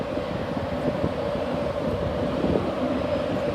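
LNER Intercity train at a station, a steady low rumbling drone with a humming engine tone, continuous and fairly loud throughout.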